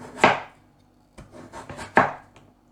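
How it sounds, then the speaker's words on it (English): Potatoes being sliced thin with a knife on a board, a sharp cut, a pause, then a quick cluster of lighter cuts and another firm chop, close and clear. "Potatoes, I usually slice them in half"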